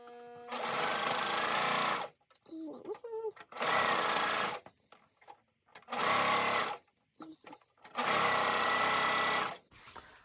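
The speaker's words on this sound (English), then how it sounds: "I think I might run this through my serger." A serger sewing machine runs along a fabric edge in three loud bursts of about two seconds each, with quiet handling noises and rustling between the runs.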